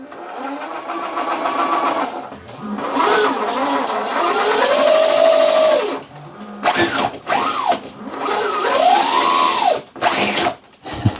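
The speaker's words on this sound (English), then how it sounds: "That brushless motor sounds absolutely mental." The brushless motor and metal gears of an FCX10 Pro V2 Toyota LC80 RC truck whine loudly up close, rising and falling in pitch in repeated bursts with short pauses between runs.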